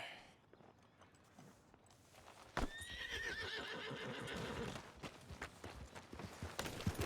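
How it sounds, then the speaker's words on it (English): A horse in Red Dead Redemption 2 whinnies loudly partway through, then hooves clip-clop at a steady walking pace, fairly close, with some soft rustling. "Are you gonna mount that new horse of yours or not?"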